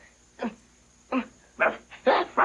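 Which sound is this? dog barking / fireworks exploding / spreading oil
dog barking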